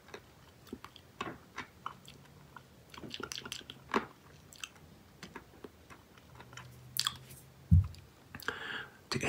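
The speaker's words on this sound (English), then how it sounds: "I want to taste a little bit of that inside hard candy chunks and see what it tastes like" Hard candy chunks from inside a Charms Blow Pop gum ball are chewed close to the mic, with irregular sharp crunches and clicks over near silence and a few louder bites.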